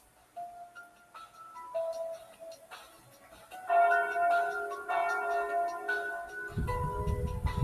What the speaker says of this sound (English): there's the noon bell